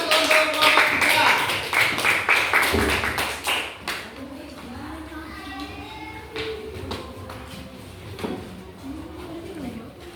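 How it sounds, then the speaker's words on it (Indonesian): A sixth-grade class claps for a group about to present, dense clapping for the first few seconds, then fading into quieter shuffling and voices talking. "Ayo beri tepuk tangan."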